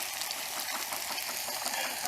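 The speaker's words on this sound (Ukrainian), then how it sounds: "Зараз він трошки пару хвилинок обсмажиться." Chopped onion frying in a pan as the base for shakshuka, a soft, steady sizzle and crackle continuing without pause.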